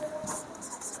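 Writing on a board, with short scratchy strokes close by in a brief burst and faint low room sound underneath.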